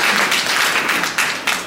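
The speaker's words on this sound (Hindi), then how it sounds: "बच्चों के लिए ताली बजाओ" An audience claps for children in a short, dense burst of applause that stays loud and close, with a few sharper individual claps standing out near the end.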